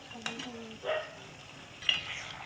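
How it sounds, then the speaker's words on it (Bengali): Potato curry is stirred in a kadai with salt and turmeric, giving a few soft, brief scrapes of a spoon against the pan, spaced apart over a quiet background. "এখন কতক্ষণ নাড়াচাড়া করবো, কেন অনেক সময় লাগবে, একটু কষাতে হবে।"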